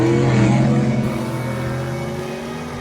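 Firebird drag racing car making its pass down the strip, a loud engine roar that starts strong and gradually fades as it pulls away into the distance.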